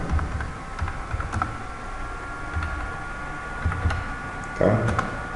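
Clicky typing on a computer keyboard while entering a Python command at a command prompt, short clusters of keystrokes close up, with someone talking over them.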